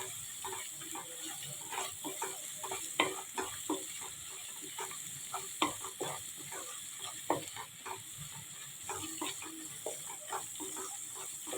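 Ground masala frying in oil for a prawn curry, a soft steady sizzle and hiss with irregular light clicks of stirring, fairly faint and without voices.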